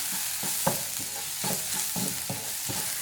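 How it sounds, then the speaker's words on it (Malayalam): Coriander, pepper and garam masala powders being stirred in a hot pan, a steady sizzle with about seven evenly spaced spatula scrapes, close and without talk. "ഇതെല്ലാം കൂടി നന്നായിട്ടൊന്ന് മിക്സ് ചെയ്ത് കൊടുക്കാം."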